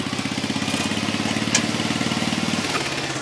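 A tractor engine idles steadily at close range, its rapid, even low chugging pulses continuing throughout with a faint clatter on top and no talking.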